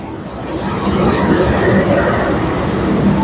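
Train at Gambir station in Jakarta, a steady loud rumble of rolling wagons and station bustle with faint wheel squeal, continuous throughout without talk.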